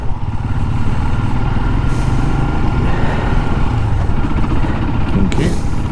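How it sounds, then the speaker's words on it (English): A motor vehicle passes close by on a narrow English country road, its engine a loud continuous rumble throughout, with a short hiss near the end. "Car coming."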